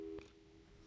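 A telephone busy signal from the video game Portal 2 sounds as a short, steady electronic tone, loudest in its opening fraction of a second and then lingering faintly.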